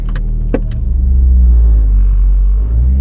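Honda Civic 8th-gen coupe with a swapped budget K24 engine running, a steady low rumble close by with a few brief clicks early on and no talking.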